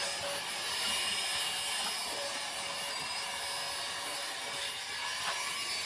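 A battery-powered portable car vacuum runs steadily with a broad, even whir that holds at a constant, fairly quiet level throughout, with faint scraping and rubbing as the nozzle moves over a surface.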